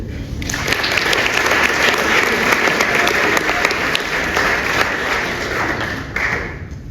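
An audience at a French literary prize ceremony applauds loudly and steadily for several seconds, a dense wash of clapping that fades slightly toward the end.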